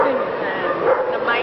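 Dog yips and bow-wow barks at a 1982 dog show featuring Alaskan Malamutes, short sharp calls mixed into a busy crowded hall with people talking over them throughout.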